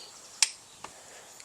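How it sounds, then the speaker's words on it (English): A torque wrench set to 22 foot-pounds clicks while tightening spark plugs with crush washers on a turbocharged car. There are two sharp, close clicks about half a second apart, with quiet around them. "we've got our torque wrench sitting at 22 foot-pounds"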